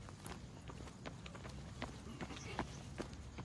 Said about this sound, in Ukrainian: Ось ще якась людина біжить.